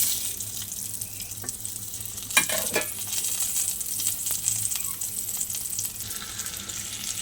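Pieces of raw mango go into a kadai of hot oil with crackling mustard seeds. A sharp burst of sizzling fades into a steady, moderate fry.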